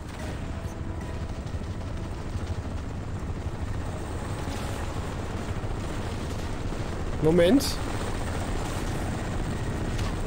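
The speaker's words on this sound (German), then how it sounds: "Oh, als ob der Heli jetzt da ist." Helicopter in the video game Crysis Remastered: a steady, close rotor drone runs the whole time, with a brief sharp burst near the end and a player's voice speaking briefly over it.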